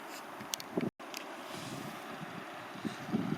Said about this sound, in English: Don't know if the camera's picking that up, but the wind's that rough up, strong up here.